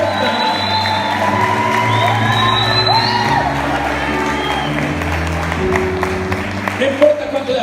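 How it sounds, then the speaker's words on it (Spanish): An audience claps and cheers for Pablo as his name is called at a ceremony: a sustained wash of applause with scattered whoops and shouts, and voices speaking over the crowd. "No importa cuánto le aplaudas a Pablo"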